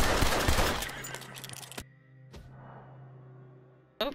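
Gunfire in an open-world video game: a dense, loud burst of shots in the opening second or so, then a sharp single report near 1.8 s and another around 2.3 s, over a steady low hum, with a final crack at the end.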